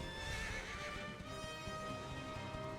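A horse in Dragon Quest 11 whinnies over rhythmic clip-clopping hooves, steady and close against game music.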